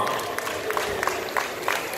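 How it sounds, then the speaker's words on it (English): Applause and crowd noise greet a pastor at a celebrity-attended memorial event: a steady wash of clapping with scattered sharper claps, moderately loud and continuous with no talk over it. "Round of applause, ladies and gentlemen."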